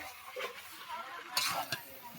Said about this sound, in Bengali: দেখো বন্ধুগণ, মাংস রান্না হচ্ছে আজকে।